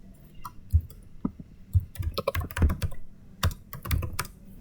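Computer keyboard typing at close range, a burst of irregular clicking keystrokes with short pauses, clear and alone without talk.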